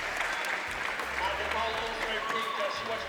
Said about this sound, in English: a lovely little cheer here